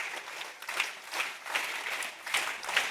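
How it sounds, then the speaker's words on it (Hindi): An assembly of schoolchildren claps in unison on a counted beat, producing crisp, evenly spaced bursts of applause that rise and fall in a regular rhythm. "दाएं ताली।"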